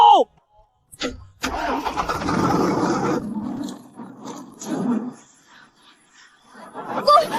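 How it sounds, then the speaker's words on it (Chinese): A water pump is started at full power as an animated drama sound effect, a mechanical engine crank that catches into a loud rumbling run, then fades out, ending with a brief burst of sound. "启动水泵最大马力"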